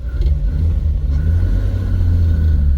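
A 1951 Chevrolet Bel Air with a three-speed manual and overdrive idles and begins pulling away on a hill, a low steady engine rumble heard close and fairly loud with no talk.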